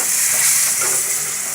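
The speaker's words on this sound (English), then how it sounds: "A little bit of vegetable stock on it." Vegetable stock hits a hot pan of baby clams for linguini clam sauce, producing a loud, close, continuous hissing sizzle with bubbling steam and no voices.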